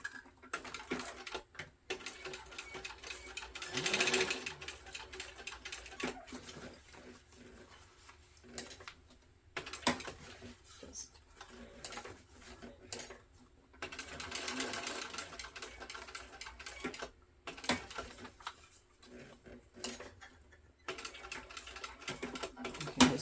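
A sewing machine stitches rows across the ends of elastic for a backpack in several runs of rapid, rattling needle strokes, separated by short pauses and light handling noises, close and fairly quiet.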